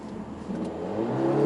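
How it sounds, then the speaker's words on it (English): The engine of a 2021 Mercedes-AMG A45 S with 421 horsepower is heard on a test drive. It gives a brief, rising growl as the car accelerates, getting steadily louder toward the end, with no speech. "The test drive of the Mercedes A45 AMG S with 421 horsepower and 500 Newton meters of torque."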